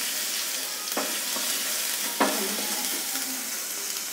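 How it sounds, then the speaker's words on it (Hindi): Ginger-garlic paste sizzles in a tablespoon of oil in a pan, a steady close hiss of frying broken by a few sharp scrapes and knocks of stirring. "सबसे पहले हम एक पैन में 1 टेबल स्पून ऑयल डालेंगे, इसमें अदरक लहसुन का पेस्ट डालेंगे और इसे थोड़ा भुनेंगे।"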